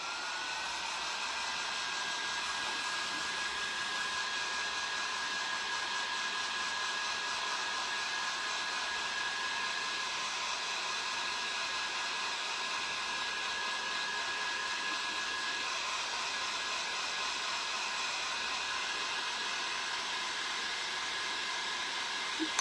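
Hair dryer drying rice paper on a bottle, a steady close whoosh with a thin high whine that holds unbroken for over twenty seconds, without speech.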